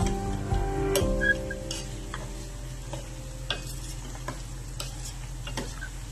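Homemade hair oil boiling in a pan while being stirred: a low simmering rumble with scattered faint ticks and scrapes from the stirring.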